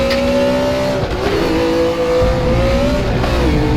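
A BMW M1 Procar engine in a racing video game holds a loud, steady high rev, its pitch dipping briefly around gear changes before climbing again, continuous with no talk.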